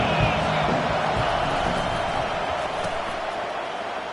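Stadium crowd roar in a college football video game, Nebraska versus USC, a steady loud wash of cheering that holds throughout and eases slightly toward the end.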